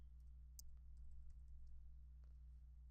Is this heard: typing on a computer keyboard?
yes